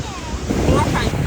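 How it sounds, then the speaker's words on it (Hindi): Sea waves wash up onto Candolim beach in Goa, a broad close surge of surf mixed with wind rumble against the microphone. "आशु, पानी आ रहा है"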